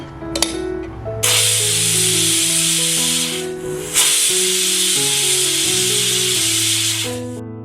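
A pressure cooker cooking dal curry lets out a loud, continuous steam hiss that breaks briefly and then resumes, with soft background music playing underneath.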